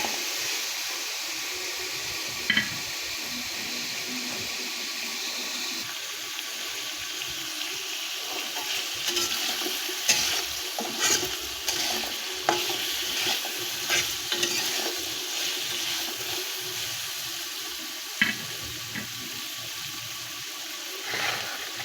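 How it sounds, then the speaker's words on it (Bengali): Taro flower mash is stirred in a pan, giving a continuous soft sizzle with scraping and clattering strokes of the spoon coming in uneven bursts, close up and moderately loud. "সব কিছু একসঙ্গে নেড়ে চেড়ে একটু"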